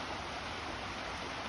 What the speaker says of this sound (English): This is the waterfall known as Devil's Dragon